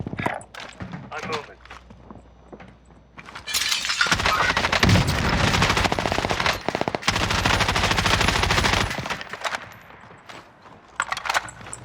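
Rapid gunfire bursts from the video game Warzone on its Caldera map, with an FARA 83 rifle, loud and sustained through the middle stretch amid shattering crashes, with player talk over sparser shots before and after.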